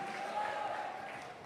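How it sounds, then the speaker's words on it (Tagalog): Congregation applauding during a Sunday general worship service in a Cebu church, a steady dense clatter of clapping hands sustained throughout at moderate loudness. "Malakas na palakpak para sa nanay, praise the Lord."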